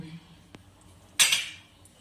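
A lid set down on a pot of hilsa fish curry with potato and eggplant makes one sharp, close metallic clank that rings briefly and fades, with a quiet kitchen before and after and no talking.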